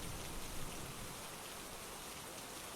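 Steady rain falls in a dense even hiss of drops on surfaces, constant and moderately soft throughout with no voices.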